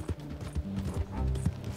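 Horse hooves clip-clop steadily in the Red Dead Redemption 2 video game, a fairly continuous rhythmic trot heard up close over a layer of in-game background sound.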